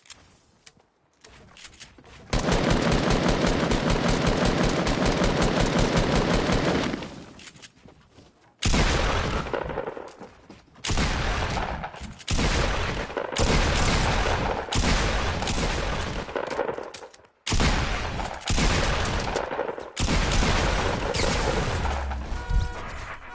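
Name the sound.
gunfire in video game FortyNites: Showdown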